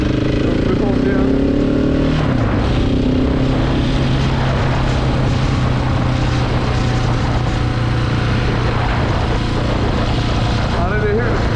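A motorcycle on a riding test near Säve, Gothenburg, picks up speed again after a bend. The engine drone rises in pitch and then holds a loud, steady roar over heavy wind rumble, with a voice speaking over it.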